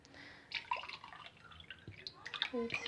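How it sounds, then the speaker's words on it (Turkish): Water is poured from a glass into a pot holding sugar for a syrup, giving splashy trickles and drips in uneven bursts, moderately close and fairly quiet. "iki buçuk da iki buçuk su bardağı su ilave ediyorum."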